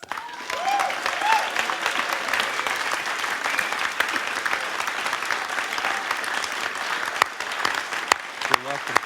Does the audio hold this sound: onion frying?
no